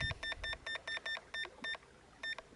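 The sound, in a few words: Toslon TF500 fish finder low battery alarm beep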